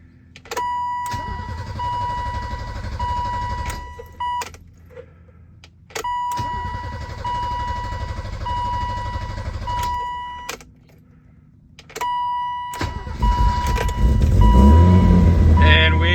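A BMW E30 with the M20 six-cylinder engine, after a head gasket replacement, cranks in three long bursts with pauses and a steady electronic chime between them, then catches and runs up loudly near the end.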